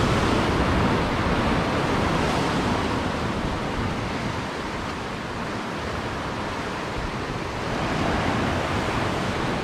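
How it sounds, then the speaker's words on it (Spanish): Rough, strong sea surf breaks continuously on the shore, a dense roaring wash of waves heard up close with no voices. "no nos podemos acercar mucho al mar porque hoy está bastante fuerte"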